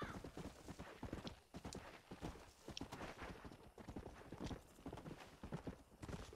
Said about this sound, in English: Why are you running away, horse?